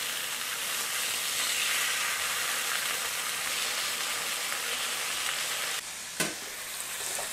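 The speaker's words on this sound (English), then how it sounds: "bacon cooks fairly rapidly, so just turn it over" Bacon sizzles steadily in a pan, a dense, even crackle that runs unbroken and close, with a brief clatter near the end as the strips are moved.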